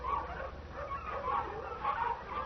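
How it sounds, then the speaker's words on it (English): A pack of hounds baying in the distance, faint overlapping wavering howls and yelps rising and falling over several seconds, with no speech. "The baying of a pack of hounds."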